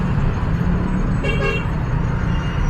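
A car horn toots briefly in congested road traffic on Commonwealth Avenue in Quezon City, with trucks in the jam, a short honk standing out over the constant engine rumble.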